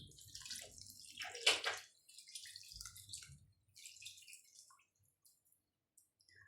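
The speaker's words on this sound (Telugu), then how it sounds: "దీంట్లో ఇప్పుడు వాటర్ వేసుకుందామండి." Water poured into a pot while making one-pot chicken biryani, a splashing pour with a louder burst near the middle, then quieter trickles and drips fading to near silence.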